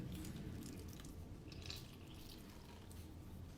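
Half a lemon squeezed by hand over a baking dish, soft wet squishing and faint dripping at close range, quiet and continuous against low background noise.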